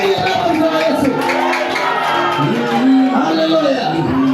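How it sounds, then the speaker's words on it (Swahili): A church congregation cheers and shouts together in a loud, sustained swell of mixed voices, with raised cries rising and falling over the crowd. "Shangilia baba mzee wa Yesu."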